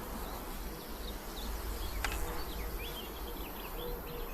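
Honey bees buzz in a faint, steady hum close by at a bee farm, with a few brief higher chirps over the drone.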